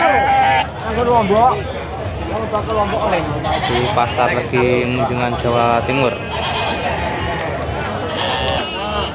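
Many goats bleat loudly and repeatedly at a busy livestock market in East Java, overlapping calls rising and falling close by while someone talks over them.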